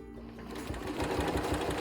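A sewing machine fitted with a walking foot top-stitches a quilt, giving a continuous, fast mechanical whirring that is close and steady.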